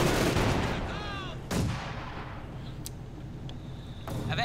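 Heavy mortar fire on a Company of Heroes 2 battlefield: a loud sharp blast near the start and another strong report mid-clip, then duller distant thumps, over a steady war-game background rumble.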